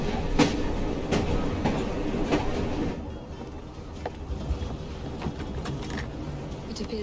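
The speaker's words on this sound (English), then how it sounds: "Oh well, at least we have a train now." A train rolls past in the video game Assassin's Creed Syndicate, set in Whitechapel: a rumbling, rattling clatter of cars with sharp metallic clanks, loudest early and easing to a lower rumble later.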